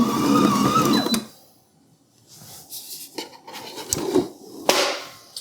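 A Hauswirt 5.3-quart, 11-speed digital stand mixer whirs for about a second and then stops, followed by quieter intermittent clinks and knocks of the bowl and attachments.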